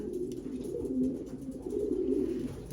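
Young pigeons hatched in late December coo softly and continuously at close range, low throaty murmurs overlapping in a loft with no speech.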